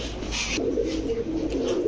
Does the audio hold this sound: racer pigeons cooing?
yes